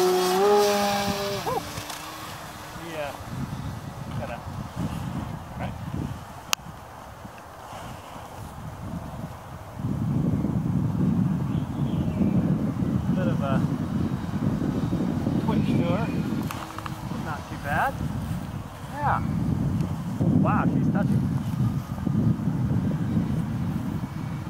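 Small 3D-printed 3dLabPrint Bf-109 RC warplane flying outdoors, its electric motor a steady airborne drone in breezy, wind-buffeted conditions that swells and fades as it passes, with a few brief voices early on.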